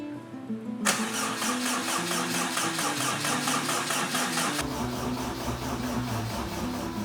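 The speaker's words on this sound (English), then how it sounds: "we're gonna crank this engine over, try to make sure we can build some oil pressure" Honda K20 four-cylinder engine swapped into an S2000 cranking over on the starter at low RPM without firing, a loud steady rhythmic whirring churn that kicks in abruptly and continues for several seconds.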